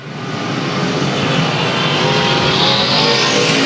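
Race cars, including a B-Mod, run together on a weekly racing track. Their engines make a loud, continuous roar that swells slightly in the opening moment and then holds steady.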